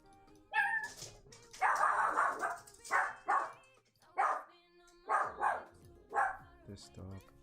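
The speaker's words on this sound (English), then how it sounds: "This dog." A dog barking in short bursts, about seven sharp barks spaced roughly half a second apart, fairly close and clear, with a voice speaking briefly in between.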